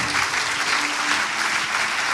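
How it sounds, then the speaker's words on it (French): Applause from an audience gathered in a church, a dense continuous wash of clapping that holds steady and fairly loud throughout the brief stretch. "On peut encore les applaudir"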